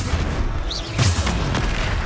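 In Hogwarts Legacy, a Bombarda spell goes off as a short, loud booming blast amid dense game sound effects, with a rushing whoosh just before the impact.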